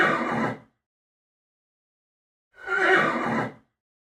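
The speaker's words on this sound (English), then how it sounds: "It's a horse." A horse whinnies twice, each neigh a loud, close, shrill call under a second long, separated by a pause of silence.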